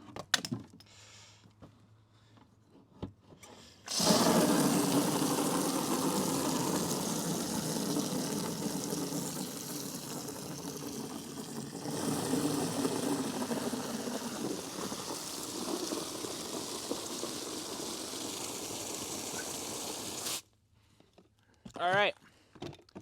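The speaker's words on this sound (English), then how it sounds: "we're going to unscrew this and just start filling it up with water" Water running from an unscrewed fitting into a container for window cleaning, a steady loud hiss and splash lasting about sixteen seconds, starting and stopping abruptly, with brief quiet stretches either side.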